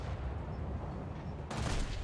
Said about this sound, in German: Okay, schieß mal wieder mit HE.